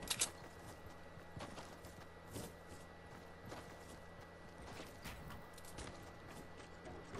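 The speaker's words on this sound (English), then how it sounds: "Oh, I hear their footsteps." Enemy players' footsteps in the Fortnite video game: a run of soft, irregular steps at moderate distance over a steady game background, with no talking.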